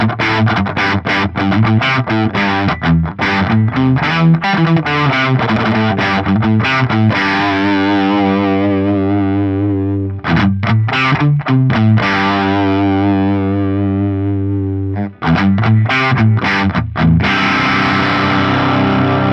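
Electric guitar played through the silicon Dallas-Arbiter Fuzz Face drive model on an Axe Fx III, loud fuzzy chords and choppy strummed bursts with ringing held notes between, alone without talk.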